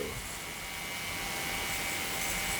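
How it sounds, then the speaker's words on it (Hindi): Electric hair trimmer buzzing steadily during a high skin fade haircut for a boy, a constant close hum with a whiny upper tone and no talking over it. "आहिस्ते से हमें ट्रिमर चलानी है"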